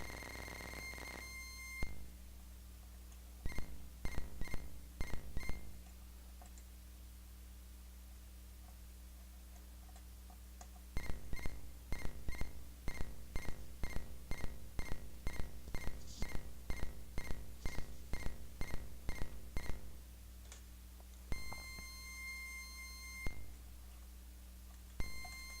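Olegtron 4060 mk2 synthesizer circuit being tweaked by removing components, giving buzzy electronic tones with bursts of rapid sharp beeping pulses in irregular rhythmic runs over a steady drone, no talk.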